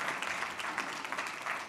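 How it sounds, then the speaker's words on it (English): Steady applause from a crowd, many hands clapping together at an even intensity. "You can clap for Jason and Mark."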